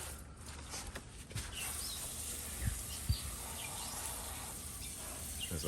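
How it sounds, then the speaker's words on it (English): Birds chirping faintly in a garden before sunrise, scattered calls over a steady low background hum, with a couple of soft thuds nearby. "the birds are really active, as you can hear"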